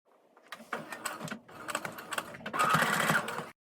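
A sewing machine stitches fabric for a pixie bonnet in short close bursts of rapid mechanical whirring, ending in one longer, louder run.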